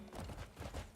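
A summoned horse in Crimson Desert trots close by, its hooves giving a quick, rhythmic clip-clop of several steps at low volume.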